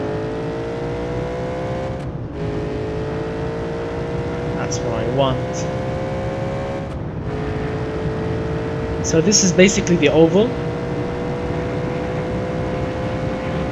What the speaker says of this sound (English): listen to that V8